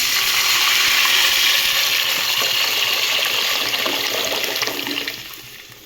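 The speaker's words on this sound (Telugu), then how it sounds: "తగిన నీళ్లు పోసుకుందాం" Water gushes loudly and steadily, like a stream pouring into a pot of lentils, then tapers off near the end.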